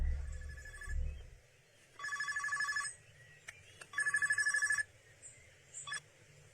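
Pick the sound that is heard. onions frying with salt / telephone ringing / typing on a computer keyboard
telephone ringing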